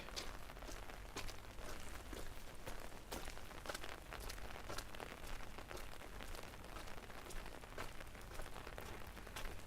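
Rain falls steadily on surfaces during a winter street walk in Helsinki, a faint, even patter with scattered sharper drips throughout.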